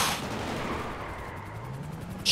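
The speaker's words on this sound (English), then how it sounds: "the tank is still shooting and still coming after us" A tank fires at a 1931 Ford Model A taxi in a video game chase, giving a steady rumbling barrage of gunfire under a low engine drone, with a sharp louder hit at the very end.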